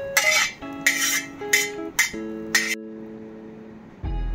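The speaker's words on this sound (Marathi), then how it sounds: "आता सुरुवातीला मी हे काढून घेते मिक्सरच्या भांड्यामध्ये." A cooled spicy raw mango thecha mixture is transferred into a steel mixer jar, giving a series of sharp metallic clinks and scrapes with ringing tones, several distinct knocks close by, followed by a duller thump at the end.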